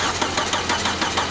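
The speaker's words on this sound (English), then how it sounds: "Start cranking her." An off-road car engine cranks on ether with a rough, uneven churning, loud and close, with no voices.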